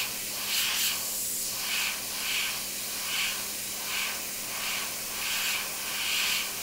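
An airbrush sprays thinned yellow paint in short, regular hissing bursts for micro detail work, about seven soft pulses close by over a constant faint hum, with no talk.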